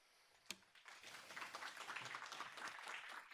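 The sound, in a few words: audience clapping after a lecture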